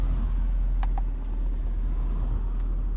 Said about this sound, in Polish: Testujemy po montażu Mercedesa ML 63 AMG karoserii W164 z instalacją gazową firmy BRC Usequent Plug and Drive Plus.